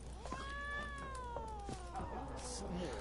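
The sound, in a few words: cat meowing in the video game The Witcher 3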